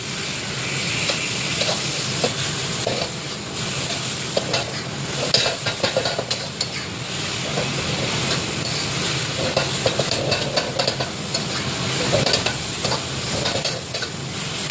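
Cabbage stir-frying with fish sauce in a pan, a loud continuous sizzle and crackle with repeated scraping strokes of a spatula throughout, no voices.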